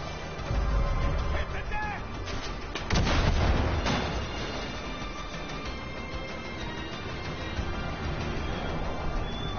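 Gunfire aimed at snipers on a rooftop in the video game Far Cry 5: loud, dense shots and booms run together over a constant roar, with a heavier burst near the middle.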